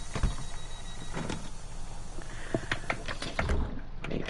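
Train doors in Train Sim World 6 whir and clunk with several sharp knocks and rattles over steady engine-like hum, fairly loud and close.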